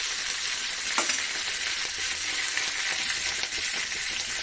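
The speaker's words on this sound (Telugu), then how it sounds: "కరివేపాకు వేసుకోవాలి ఇది ఫస్ట్ వేసుకోవాలి" Curry leaves fry in hot oil for coriander chutney, giving a loud, continuous crackling sizzle close up with a few faint stirring knocks.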